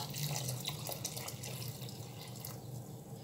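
Hot water pours into a measuring cup in a kitchen while making syrup for zalabia fritters, a steady close running stream with faint drips, no talk over it.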